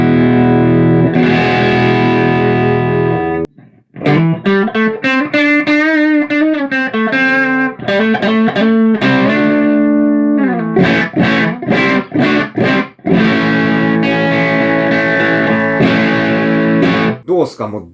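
A Gibson Les Paul Oxblood electric guitar through a BOSS Blues Driver BD-2 pedal with low gain and the tone rolled back plays loud, gritty overdriven chords and single-note phrases, close and continuous.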